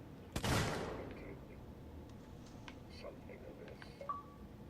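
A single sharp revolver shot in the video game Alien Isolation, loud and close, with a short decaying tail, followed by faint game ambience and scattered small sounds.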